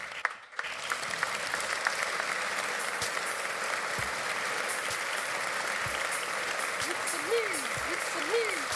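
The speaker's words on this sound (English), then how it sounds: "Can you wave your gun and make them applaud one more time?" A large audience claps in sustained, even applause that fills the whole stretch, with a few brief whistles or cheers rising above it near the end.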